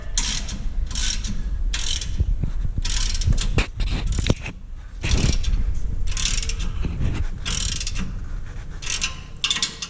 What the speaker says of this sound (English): make sure we snug up all of our remaining connections. This is a 3/4 inch socket.